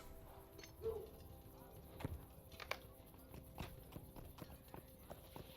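Horses clip-clopping in the online game The Lord of the Rings Online, a steady run of hoof knocks at moderate distance over a low ambient bed, with no talk.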